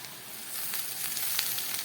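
Potatoes and onions fry in a pan with a steady, close hiss and crackle that thickens slightly toward the end, with no talking.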